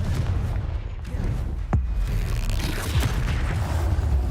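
Blasting-curse explosions from a Harry Potter video game, several heavy booms and crackling bursts in quick succession over a dense, continuous rumble, loud and close.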